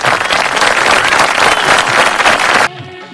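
An audience at an International Women's Day event claps loudly and densely for nearly three seconds, and the applause then cuts off into quieter music.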